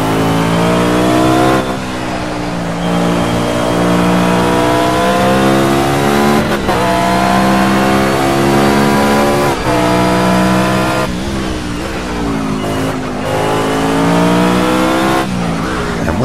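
McLaren F1 GTR long tail race car engine in the Project CARS racing game, a loud sustained roar that rises and falls through repeated gear shifts and revs, continuous for the whole stretch with no talk.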